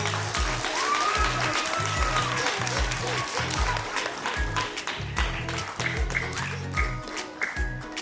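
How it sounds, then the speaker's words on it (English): Schoolchildren and staff at an elementary school assembly clap for an award, a fairly quiet, continuous patter of many hands with a low rhythmic background sound running beneath it. "Everyone give another round of applause for the award."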